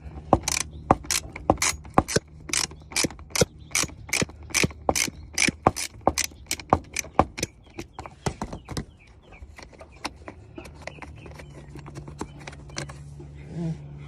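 A hand ratchet fitted with an extender is worked to remove a bolt near the wheel well cover of a Mercedes E320 W210. It gives a long, fast run of loud, close clicks that slows and turns quieter at the end.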